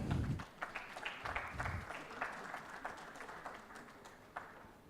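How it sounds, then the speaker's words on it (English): An indoor audience at a panel event applauds guests called onto the stage, a scattered, fairly quiet ripple of clapping that thins out over several seconds. "keep those claps going, everyone"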